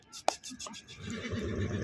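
A mare whinnies in a short, sharp neigh near the start at a horse sale, followed by low murmuring voices and outdoor background noise.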